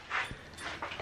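Soft, high-pitched whimpers from a young puppy reluctant to head down to a barn, a few faint drawn-out whines across about a second, close by and quiet with no talking.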